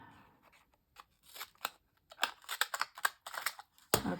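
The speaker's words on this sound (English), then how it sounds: "by using some of your fancy scrapbooking scissors, which is what I'm going to do on each side" Fancy decorative scrapbooking scissors snip through paint chip paper in a run of crisp, close cuts, sparse at first and then quicker and louder, with short gaps between snips.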